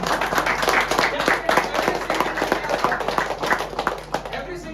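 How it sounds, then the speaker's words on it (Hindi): Listeners in a talk on focusing on the process clap together, a steady, fairly close patter of hand claps with some murmuring voices underneath. "तालियां बजाओ"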